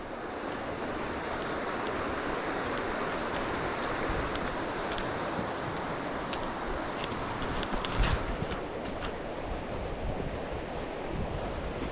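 Water cascades steadily through a drainage channel beneath an outdoor footpath, a continuous broadband rushing roar that holds at an even level for the whole stretch, with a slight surge near the end and no voices.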